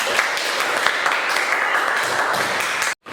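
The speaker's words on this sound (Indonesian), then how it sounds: "Iya, beri tepuk tangan." Pupils in a classroom clap together in a lively, uneven burst that carries on for several seconds and stops abruptly near the end.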